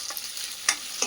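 Garlic and ginger paste fries in a pan, giving a soft steady sizzle with two brief, sharper spatters near the end of a short span.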